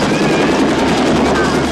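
A patrol helicopter arrives to break up a crowd, its loud rotor roar filling the air as a dense, constant wash of noise with a faint chop, with voices mixed in.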